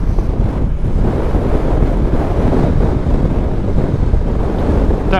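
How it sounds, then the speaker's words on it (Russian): Strong crosswind roars and buffets against the microphone on a Bajaj Dominar motorcycle riding off-road, a continuous, loud low rumble, with no voices. "Ого, сдувает боковой ветер"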